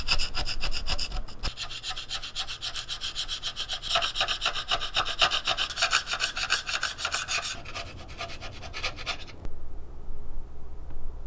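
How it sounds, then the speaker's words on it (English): Flex hone scrubbing the cylinder bores of a 25-year-old 12v VR6 engine, a rapid rhythmic rasping scrape, loud and close, before stopping near the end. "But we'll see whatever the flex hone can't clean up."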